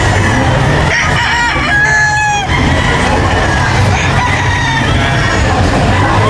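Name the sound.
game fowl roosters crowing at expo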